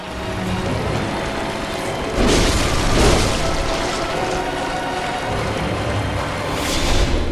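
A boss in Bloodborne curls up and unleashes an explosion attack: loud booming bursts with a crackling, rain-like scatter, two main surges a second apart and a later swell, dense and close.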